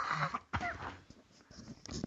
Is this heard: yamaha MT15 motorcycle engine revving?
no